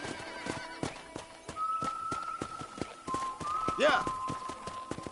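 Horse hooves clip-clop at a steady, regular pace in Red Dead Redemption on a ranch, close and crisp, with a whinny and faint whistling tones and a voice speaking briefly.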